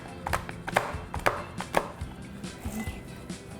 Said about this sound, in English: I really like to use serrated knives because the little edges help grip onto the